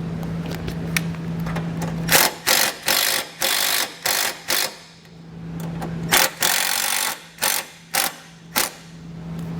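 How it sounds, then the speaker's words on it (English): A power drill drives screws to mount a Roadmaster Hy-Power diode wiring kit on a 2021 Jeep, running in short, loud, repeated whirring bursts with brief pauses, two groups of about five bursts each, close and without talk. "I'm going to take some screws here and get this secured."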